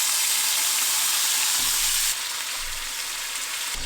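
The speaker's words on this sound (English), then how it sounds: "Whole tomatoes right in the pan." Whole tomatoes with red pepper flakes fry in a pan for a pasta sauce, giving a loud, dense, close sizzle that drops suddenly to a quieter, steady hiss partway through.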